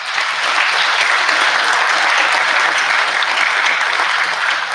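A large audience at a corrections officers academy graduation gives a steady, dense round of applause for an academy officer, loud and sustained throughout with no talking over it.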